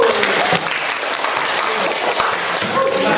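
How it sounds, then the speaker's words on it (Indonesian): A classroom audience claps together in brisk, dense applause that stays loud and even throughout, without a break. "Silakan tepuk tangan aku."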